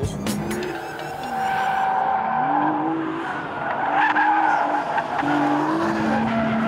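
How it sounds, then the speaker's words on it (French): Nissan GT-R sliding with traction control switched off, long wavering tire squeals over a strong, sustained engine roar, close and loud. "un peu de glisse maintenant avec cette GTR quand même"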